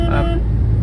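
A lorry rumbling past on a road in central Cornwall, a steady, close, low engine drone that stays loud and even throughout the short stretch.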